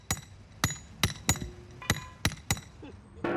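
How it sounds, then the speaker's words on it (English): Close, ringing hammer blows knock tent pegs into the ground, seven fairly regular strikes in quick succession, with a faint softer knock at the end and no voices. "A hammer is a very simple but useful machine."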